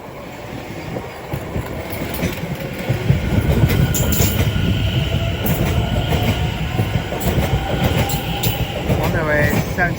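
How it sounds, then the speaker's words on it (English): A Greater Anglia class 720 electric train at Shenfield station rumbles loudly and steadily close by as it moves off, with rail noise and faint squeal; a voice is faintly audible underneath. "it's the 1725 Greater Anglia service to London Liverpool Street."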